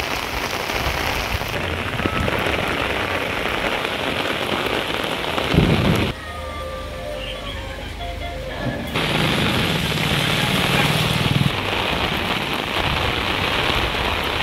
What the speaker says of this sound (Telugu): పల్నాడు జిల్లా నర్సరావుపేటలో భారీ వర్షాలు కురుస్తున్నాయి